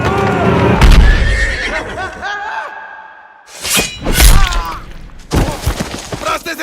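A horse neighs loudly in a Jackie Chan adventure film set in old China, with whinnies and a thud amid crashing, clattering action sounds and a burst of noisy commotion.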